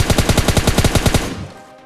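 A rapid, loud burst of automatic gunfire from the video game PUBG Lite, about a dozen evenly spaced shots in quick succession before cutting off into a short fading tail.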